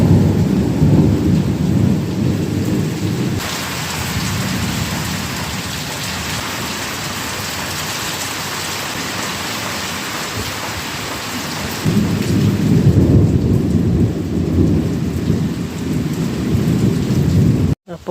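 Thunder rolls in long, deep rumbles over steady pouring rain, loud and close, with the rumble swelling again near the end; no one speaks.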